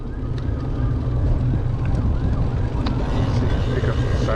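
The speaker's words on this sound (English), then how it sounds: "Pick up the siren from the highway." A siren carries from a highway past a suburban neighborhood with parks and new landscaping. It wails faintly in the distance under heavy low rumbling wind or traffic noise.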